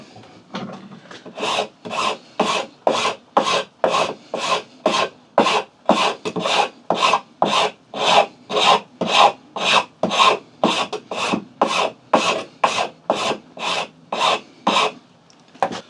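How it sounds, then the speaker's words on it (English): The fine side of a Shinto saw rasp files across wood in about twenty-five evenly spaced rasping strokes, each a crisp scratchy burst, loud and close with nothing else heard. "We're now going to put the smooth side of the Shinto Rasp on the surface, the fine side."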